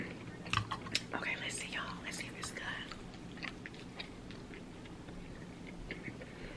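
Someone chews Chipotle tacos close to the mic with soft, wet mastication sounds. Quiet whispered talk and faint clicks run alongside.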